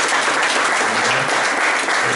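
An audience at a French cultural gathering claps together in a dense, sustained round of applause, loud and close, filling the whole moment without pause.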